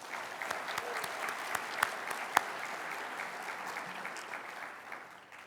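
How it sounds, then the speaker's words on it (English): Audience applauding the two MCs, Sherry and Kevin, at Serra's International Convention in Omaha: steady indoor clapping from a large crowd throughout, with a few sharper individual claps standing out, tapering slightly at the end. "let's have a round of applause for our super MCs,"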